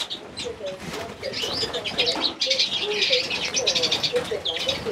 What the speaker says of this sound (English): Handling and moving of my birds.